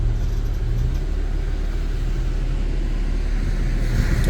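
A vehicle's engine rumbling steadily as it manoeuvres on the coastal sand dunes near Beachport, South Australia, turning around to winch out a stuck car. A close, continuous low drone with no speech.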